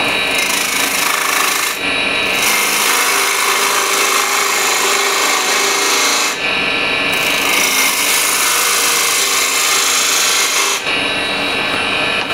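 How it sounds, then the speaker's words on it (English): Continuous rasping scrape of a 10mm spindle gouge cutting spinning wood on a lathe, loud and steady, with brief breaks where the tool lifts off. "10mm spindle gouge just to clean it up"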